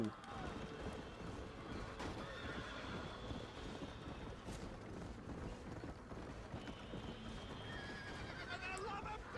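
Horse neighing and galloping hooves in the video game Red Dead Redemption, with game music and effects throughout and whinnies near the middle and end.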